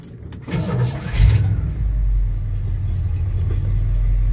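The 351 engine of a 1982 Ford truck cranks briefly, catches and fires into a steady low idle rumble, close and loud, with a faint jingle of keys at the start and no talking.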